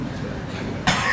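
A voice puts on a single showy cough, imitating how a man proud of his money might cough, short and forceful near the end after a low murmur.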